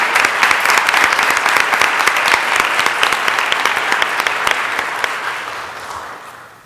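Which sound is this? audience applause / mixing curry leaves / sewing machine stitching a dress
audience applause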